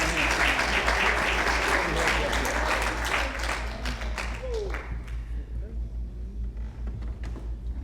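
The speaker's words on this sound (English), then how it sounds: "Let's give her a clap in the hand." An audience at a candidates' town hall in Dillon, South Carolina claps in a dense burst of applause that gradually thins and fades over a low steady hum.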